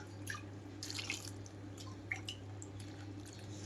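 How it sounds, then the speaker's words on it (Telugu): Water trickling and dripping as about two and a half cups go into a pressure cooker for a lentil and cluster bean fry, a quiet, steady pour with small splashes over a low hum. "ఇందులోకి ఎక్కువ వాటర్ అయితే వేయకుండా ఒక 2 కప్పున్నర వరకు వాటర్ వేసుకుంటున్నాను"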